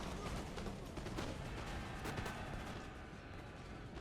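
Gunfire in a strategy war video game, a low, muffled, continuous rumble of distant shots and artillery under quiet game ambience, with no distinct individual bursts.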